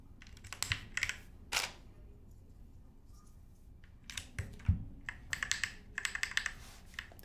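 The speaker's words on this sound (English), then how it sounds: "It's a little bit tippy when I'm pushing the keycap on there" Keycaps are pressed onto a mechanical keyboard in clusters of sharp plastic clicks and clacks, with pauses between groups, close and fairly quiet.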